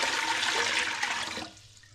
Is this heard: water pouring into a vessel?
yes